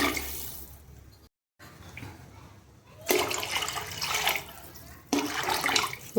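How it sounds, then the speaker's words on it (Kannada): Water gushes and splashes into a pan in two loud pours separated by brief pauses, near and rushing. "ಈಗ ನೋಡ್ರಿ ನೀರು ಆ್ಯಡ್ ಮಾಡ್ಕೊಳಕಂತೀನಿ"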